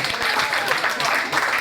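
A short burst of audience clapping for a performer at a Sibiu event comes as a thick, steady wash of applause. A voice talks through it.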